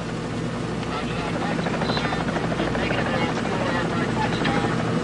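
A helicopter's rotor thuds steadily and loudly nearby, a continuous droning whir with engine whine that doesn't let up.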